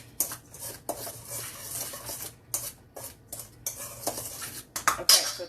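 Hot peach pudding mixture is stirred in a pot, with a spoon scraping and clinking against the sides in irregular strokes, some sharper knocks near the end.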